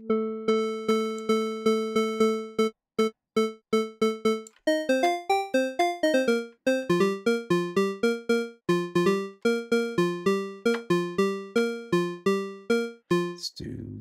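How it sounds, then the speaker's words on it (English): Plucky synth notes from a Baby Audio BA-1 synthesizer: a run of short repeated tones, then a brisk melodic sequence of bright plucks with quick decays, played alone without speech. "So we can make some cool plucky sounds here."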